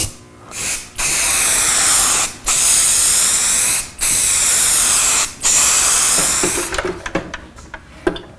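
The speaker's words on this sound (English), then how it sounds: "just spray on nice thin coats" Four long hissing bursts from a spray paint can applying thin coats, each a few seconds with short gaps between, loud and close, followed by light clicks and handling noise.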